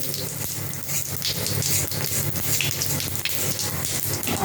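Continuous crackling sizzle of fish frying in hot oil, dense and steady with sharp popping spatters throughout.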